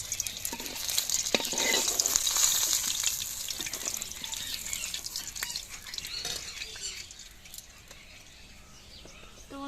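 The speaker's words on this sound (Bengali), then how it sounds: "আমি মাছগুলোকে উল্টে পাল্টে লাল লাল করে ভেজে নিয়েছি" Fish sizzles and spits steadily in a pan of hot oil while being turned, a close, busy hiss that fades slightly toward the end, with no talking.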